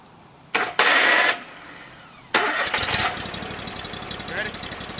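Scag mower engine cranking in two short bursts, then catching and settling into a rough, steady idle, with people talking nearby.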